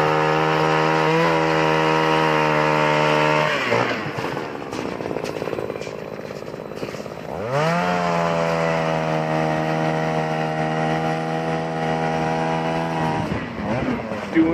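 A loud, steady motorized ice auger whine drilling fishing holes through river ice runs for a few seconds, cuts out into quieter rumbling, then revs back up and holds a high, droning pitch.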